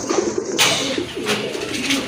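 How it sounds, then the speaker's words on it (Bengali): Indian Bombay pigeons coo in a steady, soft murmur, with a low rolling burble repeating under a faint background hiss and a brief rustle near the start. "আরেক জোড়া বোম্বাই কবুতর, ইন্ডিয়ান বোম্বাই"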